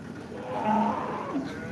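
A cow lets out a low, drawn-out moo over a busy outdoor murmur at the Modnimb cow market, with a second shorter call near the end.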